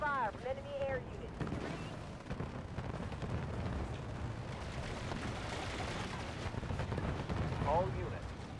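Gunfire and explosions during combat in the video game Halo Wars, a continuous dense rumble of shots and blasts under brief game voice alerts and synthetic tones.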